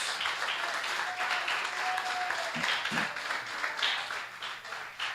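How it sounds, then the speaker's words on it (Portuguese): Congregation at a Sunday church service applauding, a sustained, even patter of many hands clapping, moderately loud with a faint tone and murmur underneath. "pode aplaudir o Senhor"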